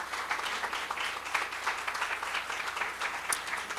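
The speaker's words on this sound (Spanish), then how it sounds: "No sé cuántos le puedan dar un fuerte aplauso al Señor en esta mañana." A church congregation applauds during a Sunday morning service, steady dense clapping from a room full of people, moderately distant and sustained without pause.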